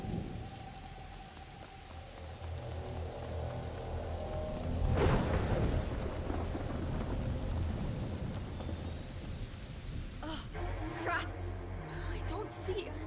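Steady heavy rain with rolling thunder and a sharp lightning crack midway fill a storm scene in A Plague Tale, loud and continuous, with a burst of crackling noise toward the end.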